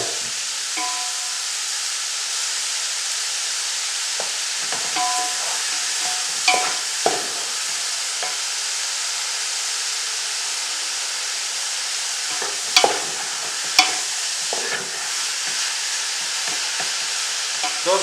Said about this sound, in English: Those mushrooms, they will produce water, and then let's keep frying until they become tender.